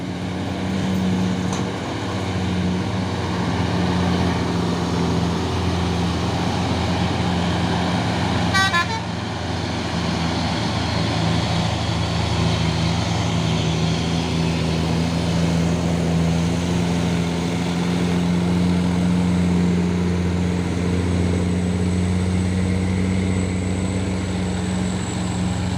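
A heavily loaded truck labours uphill, its engine droning low and steady for the whole stretch, with a brief horn-like toot near the middle and other traffic rumbling around it.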